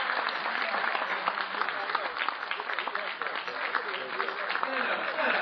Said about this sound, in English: let's give the President of the Director of the Eastern Division a round of applause